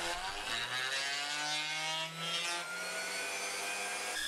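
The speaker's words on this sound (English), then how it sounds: "Now onto my high-tech router table, or a router mounted in a bit of MDF." A router mounted in an MDF table rounding over the edges of a wooden beam piece, a steady high-pitched whine with a shifting cutting tone, fairly faint and continuous for a few seconds.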